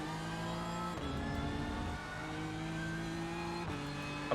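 A BMW M4 GT3 race car engine in iRacing roars steadily with raw, gritty tone, shifting pitch as it revs and changes gear, loud and close with no talking.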